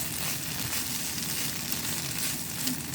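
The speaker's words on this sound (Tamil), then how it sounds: "கடைசியாக கொஞ்சம் கருவேப்பிலை போட்டு வாசனைக்காக ரெண்டு பிரட்டு பிரட்டி எடுத்தால்" Curry leaves frying in oil and being stirred into a beef liver pepper fry, a steady close sizzle with soft scraping, no talk.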